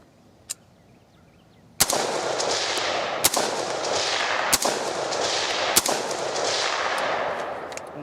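A DPMS AR-15 rifle fires at an outdoor range: one faint pop, then four loud sharp shots spaced about a second or so apart, each ringing out over a sustained echoing roar.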